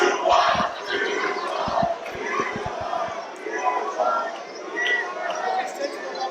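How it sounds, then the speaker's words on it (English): A wrestling crowd at a CCW anniversary show in Port St Lucie, Florida jeers at a wrestler, a loud sustained roar of voices with scattered claps and thuds from the ring. "The crowd getting on the case of Taurus now."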